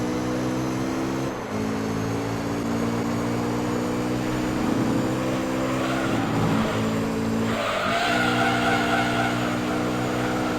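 Tires on a mid-engined car squeal and skid through oversteer in Gran Turismo 3, with steady loud engine drone and rising tonal bands over about ten seconds, no talking.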